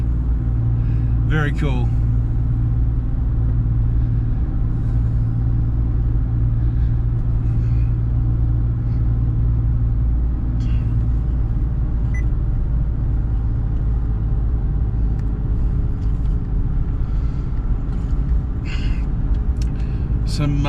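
A car drives slowly around the hilly Mount Panorama circuit, taking corners at about 45 km/h. Its engine gives a steady, close low rumble throughout, with people talking over it.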